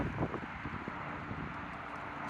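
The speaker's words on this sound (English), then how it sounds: "Just a little bit windy out here." Wind buffets the microphone in low, rumbling gusts, strongest at the start, then settling into a steady blustery roar.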